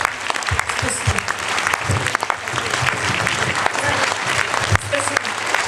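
An audience claps for a singer at a concert, a loud dense round of applause that holds steady throughout, with a voice speaking over it.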